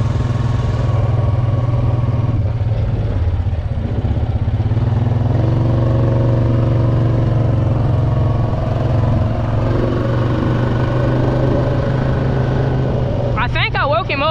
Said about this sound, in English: somebody was just sitting here revving and riding a four-wheeler in my spot